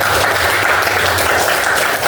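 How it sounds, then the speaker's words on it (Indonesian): Classroom applause from a group of students, loud and sustained clapping that fills the room evenly for a couple of seconds, with no voices over it. "Ya, tepuk tangan dulu ya."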